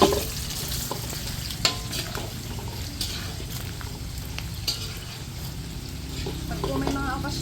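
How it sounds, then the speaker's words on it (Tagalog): Pig trotter (pata) sizzles and fries in a pan while being sautéed for estofado, with a steady crackle and occasional stirring clatter. Voices talk faintly in the background. "Ito lang ay gigisa ng mga 2 minuto."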